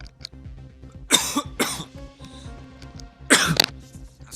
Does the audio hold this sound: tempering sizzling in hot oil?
no